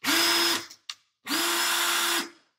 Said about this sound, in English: definitely have your drill set to the slow speed setting